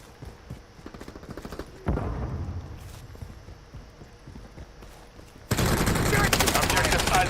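Video game gunfire in a tactical shooter match comes as bursts of rapid shots, sparse and moderate at first, then a loud sustained volley in the final seconds, with game effects behind.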